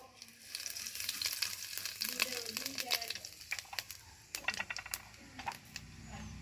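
Whole cumin seeds tempering in hot oil in a kadai sizzle and crackle steadily, with scattered sharp pops and light utensil clicks over the continuous fry.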